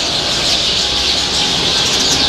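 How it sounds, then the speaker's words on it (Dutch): A dense flock of birds in Egypt chatters and chirps nonstop, a loud, continuous high-pitched clamour with no breaks and no people talking. "lawaai wat die vogels hier maken"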